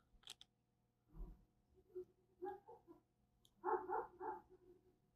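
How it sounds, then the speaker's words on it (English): Two household dogs that don't get along bark in the background, a few faint, distant woofs and short bursts spread out with quiet between them. "Sorry if you can hear the dogs barking in the background."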